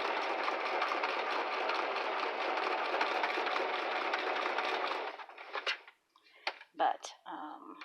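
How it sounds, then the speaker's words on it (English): A sewing machine stitches in a continuous, steady whir for about five seconds, then stops, leaving a few scattered clicks and soft handling noises. "I'm trying to sew here."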